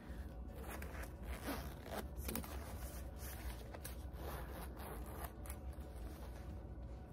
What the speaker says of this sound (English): And I could still zip up like easy